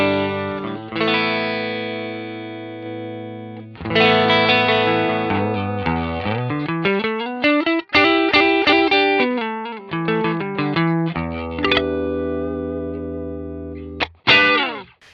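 An electric guitar plays clean sustained chords and single notes through a Fender Concert amp model on an Axe-Fx III, with slides and ringing decays, close and without voices.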